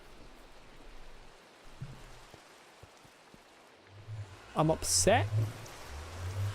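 Steady rain hissing across a Minecraft world, a soft even wash throughout with a few low thuds, joined near the end by a louder burst of game sounds and someone speaking over it.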